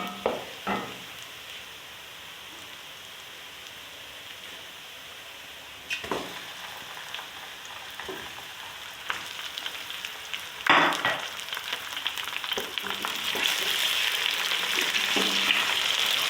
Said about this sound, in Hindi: और तकरीबन चिकन को मैं भून लूँगी ऐसे ही 5 से 6 मिनट